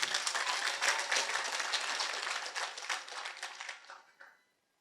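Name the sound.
audience clapping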